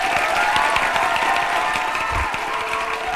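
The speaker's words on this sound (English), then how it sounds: "let's give him a round of applause" A crowd of listeners breaks into sustained applause with some cheering, dense and fairly loud throughout, with no voice rising above it.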